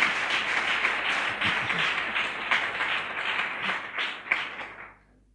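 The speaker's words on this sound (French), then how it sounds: "Acclame le Seigneur." A church congregation applauds the Lord with sustained, dense clapping that holds steady and then fades out near the end, full and near.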